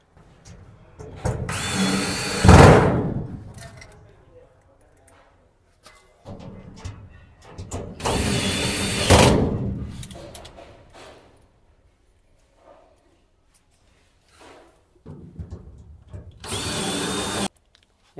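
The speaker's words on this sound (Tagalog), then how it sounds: "i-screwan muna natin yan." A power drill drives screws into a steel wardrobe in three separate bursts, each a loud whirring whine that ramps up and cuts off, with quiet handling sounds between.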